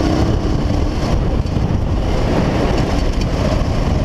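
A Honda XL600R motorcycle rides along a dirt road, its engine rumble blended with heavy, blustery wind roar against the microphone, loud and continuous with no voices.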